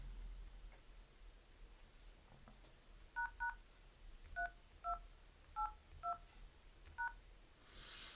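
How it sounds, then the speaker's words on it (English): Keypad tones sound as a secret menu code is dialed on a Lumia 830 phone, about nine short, crisp beeps in an uneven sequence over a quiet background. "On this phone 830 I'd have to dial this"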